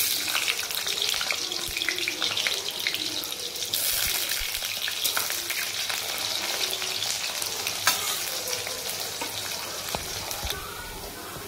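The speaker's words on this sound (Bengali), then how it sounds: "এবার আমরা এর মধ্যে আলুগুলো দিয়ে দেব। আলুগুলোকে একটু হালকা করে ভেজে নেব।" Potatoes fry in hot oil with nigella seeds in a pan, giving off a loud, steady sizzle with stirring scrapes that runs throughout.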